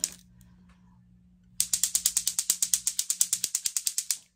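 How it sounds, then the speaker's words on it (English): After a quiet start with a low hum, a toy clacker rattles in a fast, even series of about twenty sharp, loud plastic clacks. "This is one of those clacker toys."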